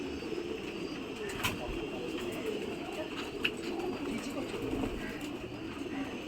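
A Black Diamond pigeon coos softly amid a constant low background hum, with a few faint soft taps and rustles; no one speaks.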